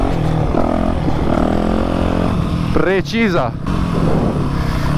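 Yamaha YZF 250 4T dirt bike engine revving hard through a wheelie, a loud rising and falling four-stroke buzz close by, with someone talking over it.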